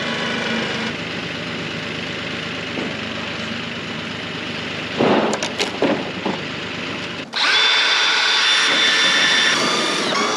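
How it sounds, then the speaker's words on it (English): A power drill runs in a continuous, fairly loud whine, broken midway by a few sharp knocks before the motor note shifts higher and steadies again. "Okay, the drill should be able to get that."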